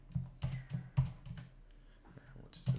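Keyboard keys clack in short bursts while C# code is typed on a computer, the uneven clicks close and moderately loud, with a faint hint of voice in the background.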